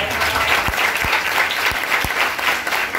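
An audience at a church gathering applauds, a dense, even clatter of many hands, loud and close, lasting the whole few seconds.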